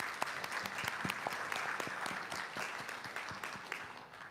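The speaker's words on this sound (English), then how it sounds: "Please give them a round of applause" A church congregation applauds its leadership and fundraising teams, a steady wash of many hands clapping at moderate distance, with sharper individual claps standing out and faint voices underneath throughout.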